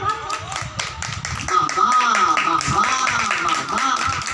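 A crowd claps hands together at a community project gathering, steady clapping running under a voice that keeps talking throughout.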